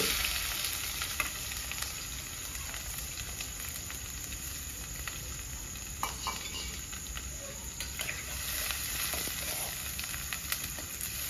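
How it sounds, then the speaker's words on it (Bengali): Chopped onions fry in a pan for a village-style chicken liver dish, a steady quiet sizzle with occasional soft stirring scrapes and no voices. "পেঁয়াজ থেকে ভালো করে লাল করে ভেজে নিতে হবে।"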